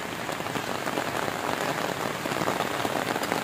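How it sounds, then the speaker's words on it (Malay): Heavy rain at Batu Layar beach beats down in a thick, unbroken roar of drops on surfaces, loud and close throughout with no talking. "Hujan makin lebat dan lebat terus di Batu Layar."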